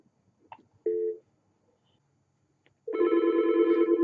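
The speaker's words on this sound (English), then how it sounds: "Let's make an inbound call." A Yealink T41P desk IP phone rings with an inbound call: a short electronic tone burst, a pause, then a louder sustained ringtone with steady harmonic tones that continues to the end, alone and close.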